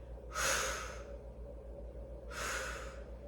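Two long, close breaths during a Pilates mat exercise, airy and steady, separated by a short pause over a low background hum.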